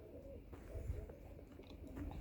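Pigeons coo softly and low, a few murmuring calls against a quiet background.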